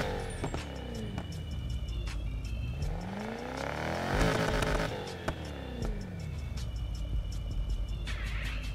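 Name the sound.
car engine idling, Need for Speed Heat video game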